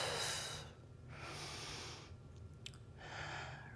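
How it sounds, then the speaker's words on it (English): A deep breath in and a long exhale during a home foam roller mat Pilates class, two to three soft, close airy breaths separated by brief pauses, with no talk. "Deep breath in and exhale."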